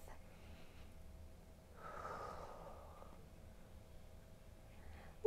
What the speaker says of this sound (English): let's take one more full breath